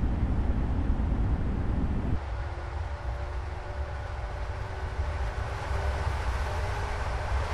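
A passenger train in Train Simulator 2022, on the Welwyn Garden City to London route, rumbles along with a dense low roar and a faint steady tonal whine, continuous and close.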